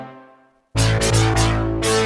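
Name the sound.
synthesizer lead with distortion and chorus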